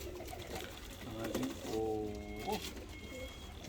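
Pigeons coo and call from an open box as it is unpacked, a few throaty coos mid-clip over low background rumble, with people talking nearby.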